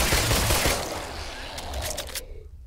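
Rapid gunfire bursts in the VR shooter game The Brookhaven Experiment, loud, dense and sustained, with sharp shots cutting through before stopping abruptly near the end.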